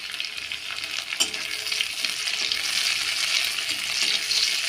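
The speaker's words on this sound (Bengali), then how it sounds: "হালকাভাবে নেড়ে চেড়ে নেব।" Chopped green chillies and onions fry in a pan on a home stove, making a dense continuous sizzle as a spatula stirs with intermittent scraping strokes, heard close with no speech.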